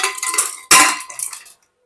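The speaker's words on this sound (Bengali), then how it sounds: "তাই এবার এটা ঢাকা দিয়ে দিলাম।" Lid set onto a pressure cooker holding moong dal with papaya, a sharp metallic clang at mid-clip amid brief rattling of pot and lid, close and loud, then silence.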